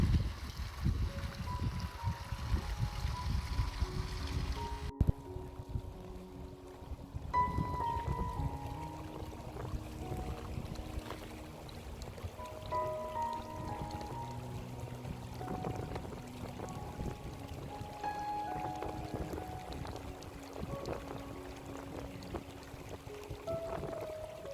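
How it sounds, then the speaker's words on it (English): Spring water from Boca Spring trickles and flows in a small stream running under a tree, a steady close babble with brief gurgles and no voices, broad and continuous throughout. "The water runs right down here under this tree."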